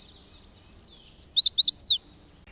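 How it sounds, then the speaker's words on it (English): Woodland bird song beside a pond at an Audubon sanctuary in Hampton, Connecticut, where yellow warblers, catbirds and chestnut-sided warblers sing: a loud, close run of about ten rapid, sweet chirping notes speeding up, then stopping, with no talk. "There's tons of birds out today, tons of yellow warblers, catbirds, chestnut-sided warbler,"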